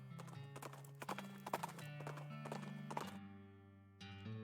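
Rhythmic clip-clop of horse hooves while riding in the video game West of Loathing, steady and close, layered over simple tonal game music that shifts pitch and briefly drops out near the end.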